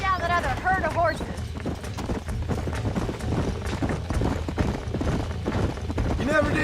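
Horse hooves clip-clop steadily through the whole stretch in the Red Dead Redemption video game, a dense rhythmic patter set against a continuous background mix, with a brief voice near the start.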